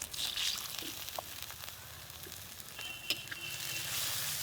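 Water poured into frying spice masala of ground garlic, cumin and chili powder for loitta shutki bhuna, a soft steady sizzle with light stirring, fairly quiet, no talking.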